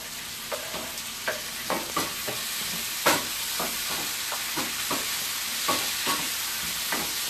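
Colorful peppered vegetables sizzling in a frying pan, a constant hiss broken by repeated scraping and clacking strokes as they are stirred, close and alone with no voices.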